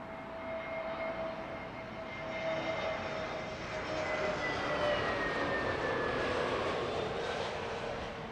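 Eurowings passenger jet arriving at London Heathrow on a flight from Hamburg, a steady broad engine roar with faint whining tones, building slightly in loudness midway and holding near, with no talk.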